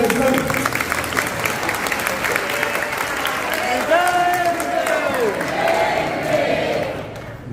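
An audience at a Jain memorial gathering in Sirpur bursts into applause, a dense wash of clapping and crowd noise with a voice speaking over it throughout.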